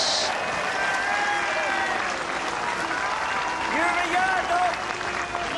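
A large crowd breaks into sustained, loud applause at the 1990 Bass Masters lawn bowls final, continuous clapping filling the space with some cheering mixed in.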